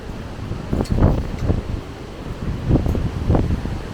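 Strong gusty wind from Hurricane Fiona roars around the microphone at a seaside cove on Prince Edward Island, rising and falling in buffeting surges with rustling debris, and no one speaks.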